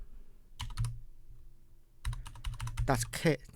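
Computer keyboard keys tapped in two quick bursts while typing a command, close and crisp with a short pause between groups of keystrokes.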